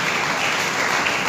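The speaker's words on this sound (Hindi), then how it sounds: "ताली बजा के परमेश्वर को महिमा दे" A church congregation claps in unison during a Sunday service, a dense, loud and continuous burst of applause that fills the short moment with no voices heard.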